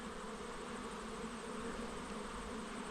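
Honeybees swarming a busy Langstroth hive entrance, a dense continuous buzz of many insects heard close and alone, with no voices.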